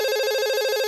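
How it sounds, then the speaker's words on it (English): An electronic telephone ring from a new-model phone, loud and close, a continuous trilling tone pulsing rapidly for just under a second, used as a radio drama sound effect. "The telephone scream startled Ethan."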